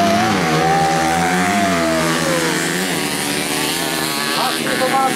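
A racing motorcycle engine at a practice session, loud and close, its pitch rising and falling as it revs and shifts throughout.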